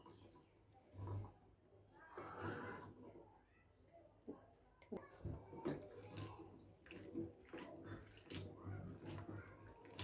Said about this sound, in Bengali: ভালো করে ধুয়ে